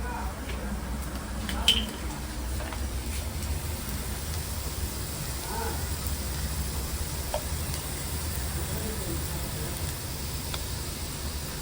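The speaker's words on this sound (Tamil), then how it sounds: "இதிலே நம்ம சோயா சாஸ் ஊற்றிக்கிறோம்" Soy sauce is poured onto chicken pakoda frying in a pan, giving a steady soft sizzle with a few faint clinks, while low voices murmur in the background.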